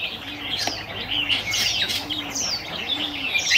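Wild white-eye birds chirp and call in quick high twittering bursts, with repeated soft low coos in between, moderately near and steady throughout with no speech.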